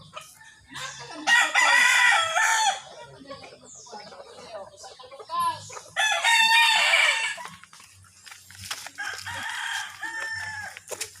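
A rooster crows loudly twice, with chickens clucking between and after, and some faint voices in the background.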